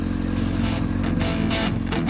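An older Honda Hornet motorcycle idles nearby, a steady low rumbling engine note with slight fluctuations and faint mechanical clatter.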